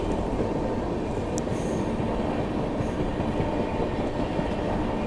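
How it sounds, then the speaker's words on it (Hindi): A Delhi Metro train rumbles past overhead on an elevated track near a railway line, a loud continuous roar of wheels on rails with faint high squeals, sustained throughout. "मैं इसी चीज़ के लिए खड़ा था गेट पे कि ऊपर से कब मेट्रो निकले"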